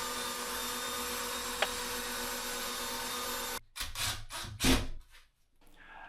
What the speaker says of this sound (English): I picked the sander up from I think Harbor Freight probably about 10 years ago